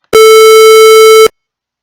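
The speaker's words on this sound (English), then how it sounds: "if I add a sawtooth wave at the same time and at the same frequency and amplitude" Synthesized tone combining a square wave and a sawtooth wave at the same pitch and amplitude, a loud steady buzzy note lasting about a second with abrupt start and stop.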